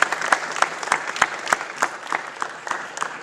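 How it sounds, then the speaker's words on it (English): An audience applauds at a law careers event, a steady round of clapping from a moderately sized crowd with sharper individual claps standing out throughout. "So I want to give a round of applause for that."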